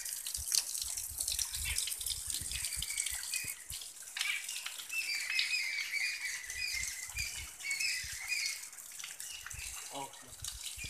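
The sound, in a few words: flowing waterfall at Chitrakoot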